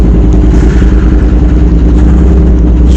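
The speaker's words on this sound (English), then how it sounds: "This is a sound check to see if I can live with this infernally loud set of Kone Engineering mufflers" Motorcycle fitted with loud Kone Engineering aftermarket mufflers, a close, steady, deep throbbing exhaust drone with a fast pulsing beat and no voices.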